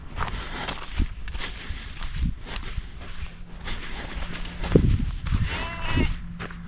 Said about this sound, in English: A sheep child in distress? That pitiful baa could melt even a necromancer's heart.